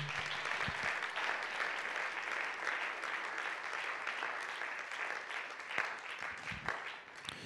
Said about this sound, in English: Can you clap your hands to the Lord?